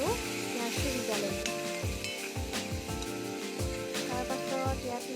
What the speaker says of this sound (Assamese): অলপমান পানী এড কৰিম আৰু অকণমান এনেদৰে ভাজি ল'ম। বিলাহী আৰু পিঁয়াজটো সিজালৈ